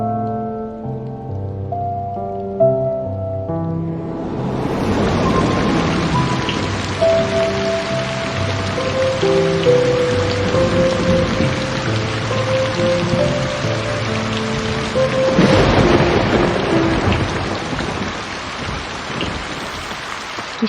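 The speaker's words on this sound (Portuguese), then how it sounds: "Que chuva forte." Heavy rain pours steadily and loudly after a quieter musical opening, with a rumble of thunder swelling in the middle of the downpour; no voices are heard.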